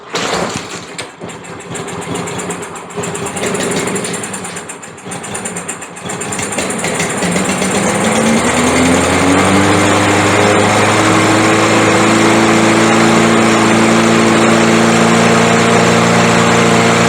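A small engine whose intake was filled with oil struggles through pulls and sputters, then catches around the middle and climbs into a loud, steady high-revving drone that holds to the end, with no talking.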